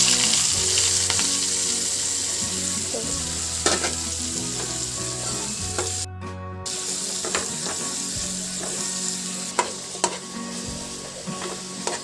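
Chopped onion frying in a pan for a Kerala-style prawn roast, a steady loud sizzle with occasional stirring scrapes and clicks, no talk.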